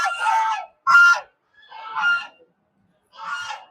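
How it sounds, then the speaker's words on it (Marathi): Ducks quack loudly at a Shani temple in Beed, Maharashtra, four harsh nasal calls in quick succession, close and clear with nothing else behind them. "बदक लयच आरडायला लागले."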